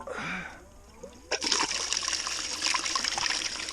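Water splashes and pours steadily after a quiet start, a close, continuous wet rush with some clatter mixed in.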